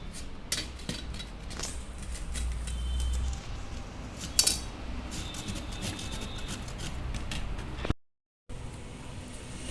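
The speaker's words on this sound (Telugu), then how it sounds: "కొంచెం ఇలా పెద్ద హోల్స్ ఉన్న వాటితోనే తురుముకుందాము." Bottle gourd rubbed against a large-hole grater gives close, steady rasping scrapes with scattered metallic clicks, briefly cut by a short silence near the end; no one speaks.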